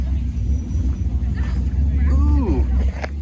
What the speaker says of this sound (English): There's that 65. It's a GTO. Listen to that thing run.